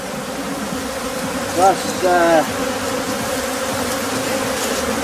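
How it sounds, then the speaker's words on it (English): Honey bees buzzing around an opened hive during beekeeping, a steady near drone with a couple of louder bees passing close, under brief speech. "These bees that he's shaking off now are just after the honey"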